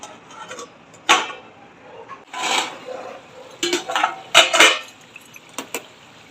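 A metal lid set down on a pot of egg curry, a few sharp clinks and clatters of cookware spread over a few seconds, close and moderately loud with no talking.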